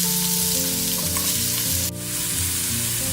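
Chopped onions sizzle steadily in a hot pan, a continuous close frying hiss with a brief sharper crackle partway through, with a faint tonal hum underneath.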